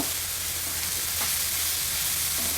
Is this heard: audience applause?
no